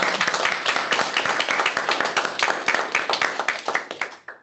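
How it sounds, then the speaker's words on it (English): Close, crisp applause from a small audience at a closing session of an academic conference on stochastic models, thanking the organisers, lively at first and thinning to a few last claps before stopping. "Let's give them a quick round of applause."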